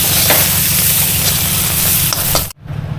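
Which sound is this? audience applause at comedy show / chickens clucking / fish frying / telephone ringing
fish frying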